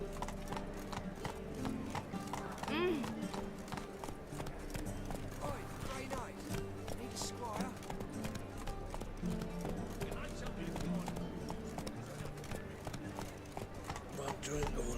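Roach the horse galloping in The Witcher 3, rapid rhythmic hoofbeats throughout with a brief whinny, close and steady under game music and character talk.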